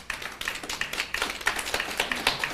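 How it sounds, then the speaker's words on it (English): Scattered audience applause at a civil service public forum held by a finance and public service ministry, coming as a sparse, uneven patter of claps at moderate volume that never builds into a full ovation. "that deserves a round of applause"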